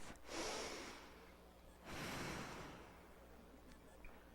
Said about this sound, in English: Just to breathe with me, one deep breath.